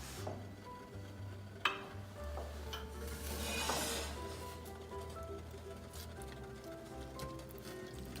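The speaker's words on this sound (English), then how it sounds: "we're just going to add the heat and patiently stir until we get the right consistency" Brown rice syrup mixture in a pot on a cooktop, being stirred with scraping and rubbing strokes and a few light utensil clinks against the pot. The sound is soft and continuous.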